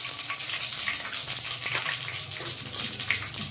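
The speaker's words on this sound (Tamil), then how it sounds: "கடுகு இப்போ பொரிய ஆரம்பிச்சிருச்சு. கடுகு பொரிஞ்ச உடனே தான் கருகப்பிலையை போடணும்." Mustard seeds and curry leaves splutter in hot oil, giving a steady, close sizzle with faint crackles throughout and no voices.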